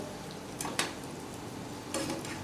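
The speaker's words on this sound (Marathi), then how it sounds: "तर इथे आपली भेंडी मस्त फ्राय होत आलेली आहे" Tender okra (bhindi) fries in a generous amount of oil in a pan, giving a steady soft sizzle with a few brief clinks of a stirring spoon, close by, with no talk.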